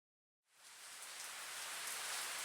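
Steady rain in a Project Sekai game scene begins after a short silence and swells into a dense, hissing downpour that continues evenly to the end, with no voices.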